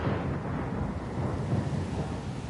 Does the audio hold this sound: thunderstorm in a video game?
yes